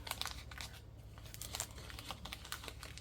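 Paper being folded for simple mini notebook decorations, with steady crinkling and crisp creasing rustles across the whole stretch, close and moderately loud with no talk.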